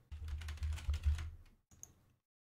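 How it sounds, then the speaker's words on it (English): A computer keyboard being typed on in a quick burst of close, crisp keystrokes that lasts about a second and a half, then a few stray taps before silence. "typing in SoundCloud"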